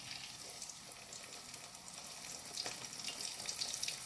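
Food frying in hot cooking oil, a steady, fairly quiet sizzling and crackling that holds throughout with small pops, with no voices over it.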